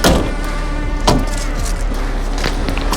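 Ineos Grenadier SUV on a test drive after a steering damper fix, heard from inside as a steady cabin road rumble with a couple of brief knocks, no talking.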